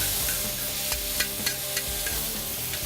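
Blackened flank steak sizzles steadily on a hot FireDisc cooker, a constant loud frying hiss with a few soft clicks and taps as the meat is flipped.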